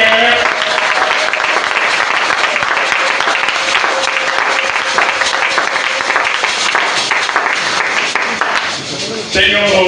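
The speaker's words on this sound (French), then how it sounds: "Acclame déjà pour le 21 jours de prière." A church congregation gives loud, sustained applause at the start of 21 days of prayer, a dense wash of clapping that lasts nearly ten seconds before fading at the end.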